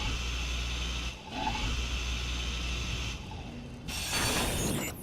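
Grinding rumble from a grinder tool applied to a block in a video game, steady mechanical whirring with a ratcheting edge, continuous for several seconds and swelling louder near the end.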